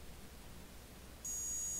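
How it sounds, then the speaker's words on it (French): In an X-Plane simulation of a Robinson R66 helicopter, a low RPM warning alarm comes on abruptly after a second of faint hiss. It is a steady, high, piercing electronic tone that holds without a break. "normalement vous allez avoir une alarme low RPM qui doit se faire"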